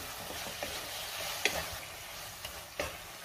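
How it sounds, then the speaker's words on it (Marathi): Vegetables sizzle steadily in a pan as biryani masala and garam masala are stirred in, with a few sharp spoon scrapes and taps against the pan over the continuous frying hiss. "बिर्याणी मसाला घालायचा आहे, गरम मसाला घालायचा आहे आणि पुन्हा सगळं व्यवस्थित मिक्स करून घ्यायचे"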